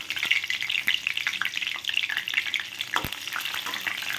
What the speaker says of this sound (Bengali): দিয়ে দেবো একটু গোটা জিরে ফোড়ন, আর দিচ্ছি একটা তেজপাতা